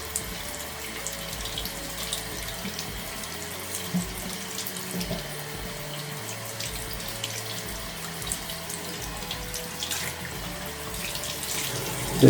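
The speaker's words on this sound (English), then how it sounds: "The water is just getting dispersed from the cover screen as well as at the back panel very quickly." Water splashes steadily over a Samsung Galaxy Z Fold 7 phone, trickling across its cover screen, back panel and camera module, a continuous close running-tap flow with no voices.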